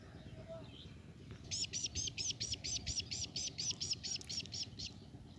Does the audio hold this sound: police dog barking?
no